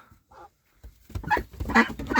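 Farm ducks call from a barnyard. One short quack comes first, then a run of loud, close, raspy honking quacks that builds over the last second.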